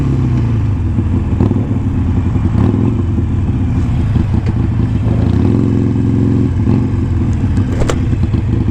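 A Harley-Davidson Sportster motorcycle rides by at sunset near the coast, its engine rumbling steadily and loudly for several seconds with revving swells, heard alone without talk.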